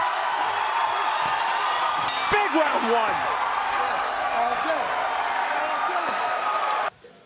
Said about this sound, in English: This Oklahoma crowd is going now.